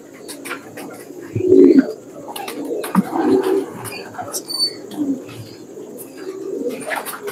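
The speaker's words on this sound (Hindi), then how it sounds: "ये लाल फनियर कबूतर।" A red fantail pigeon coos repeatedly in low, throaty bursts, fairly close, with faint chirps and background rustle around it.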